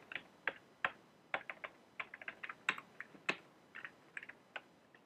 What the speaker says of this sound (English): Let's just type this in.